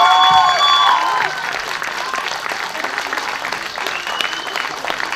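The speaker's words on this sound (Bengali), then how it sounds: "একটা জোরে হাততালি প্লিজ।" A crowd claps at an evening gathering in a festival pandal, broad and sustained applause that continues steadily after a brief opening burst of tonal sound.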